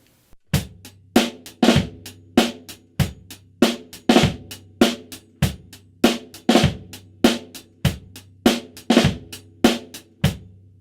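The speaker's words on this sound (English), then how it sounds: "we're going to play a simple rock beat," A simple rock beat on a drum kit with a fat flam on beat 2: crisp, evenly spaced hits in a steady groove, with deep kick thumps and sharp doubled snare strokes, loud and close with no talking.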